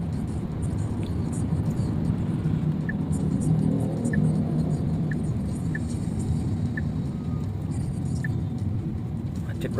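Heavy traffic jam on a street in Palembang, with a steady, dense rumble of idling and creeping engines close by and small repeated tones cutting through, while voices murmur underneath.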